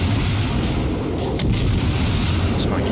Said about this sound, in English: Just going to keep on firing, aim for his turrets.